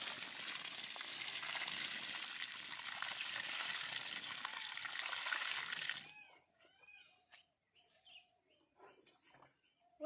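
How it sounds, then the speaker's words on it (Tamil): Water is poured over soil covering freshly planted flat bean (avarai) seeds, giving a steady, close splashing hiss for about six seconds before it stops, leaving faint birdsong and small outdoor sounds. "நம்ம தண்ணி ஊற்றலாம் இப்போ."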